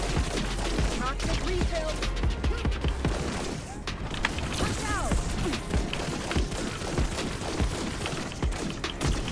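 Lemnis Gate gunfire cracks in repeated shots and clattering impacts over a busy, loud game mix, with someone talking over the action.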